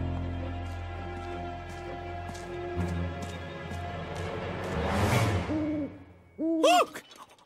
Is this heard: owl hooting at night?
yes